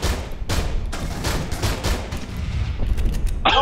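Rapid gunfire in Aliens: Colonial Marines, a loud fusillade of sharp shots in irregular bursts that continues for several seconds and ends with a short electronic whine.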